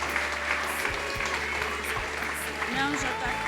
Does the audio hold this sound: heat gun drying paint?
no